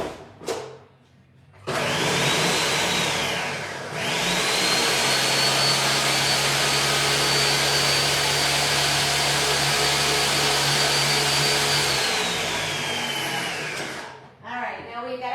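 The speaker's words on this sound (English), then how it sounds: "we're gonna put them in the little NutriBullet here," A small NutriBullet blender whirs steadily while blending eggs for a bacon and ricotta egg bake, a loud continuous motor drone lasting about ten seconds with a brief pause and restart, no talk over it.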